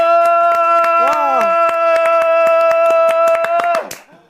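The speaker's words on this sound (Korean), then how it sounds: "한 번 더 박수!" A group claps in a quick, regular rhythm, close and loud. A sustained tone and voices run underneath, and the claps fade out near the end.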